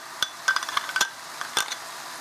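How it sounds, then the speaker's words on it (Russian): Chicken is stirred with wine and sour cream in a pan, a series of close, sharp clinks and scrapes of a utensil against the pan, irregular and brief, over a quiet background hiss. "Все размешиваю."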